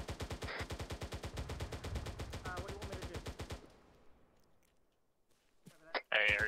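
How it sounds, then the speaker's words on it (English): Heavy automatic gunfire in a military video game operation in East African woods, a rapid steady burst of shots that stops partway, followed by a quiet stretch and a voice speaking over the radio. "You keep laying down the heavy fire."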